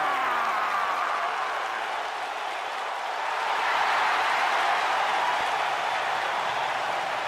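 A steady wash of crowd applause fills an arena in a PS4 wrestling game, Extreme Rules 2019, holding a constant even roar with no pauses.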